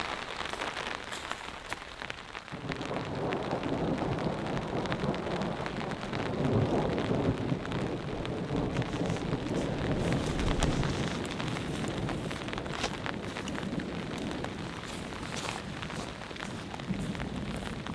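Steady rain patters on tarp and foliage at a forest campsite during a storm, swelling after a quiet opening into a dense, constant hiss with scattered heavier drops.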